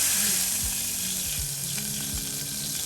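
Water poured into hot oil tempered with mustard seeds and cumin for a Kathiyawadi drumstick dish, a sustained hissing sizzle with bubbling and a few scraping knocks.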